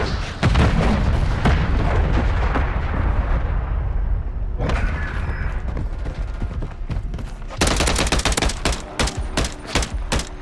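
A loud stun grenade blast in Call of Duty Modern Warfare 3 opens a rolling boom, followed by a quieter stretch and then bursts of rapid gunfire near the end.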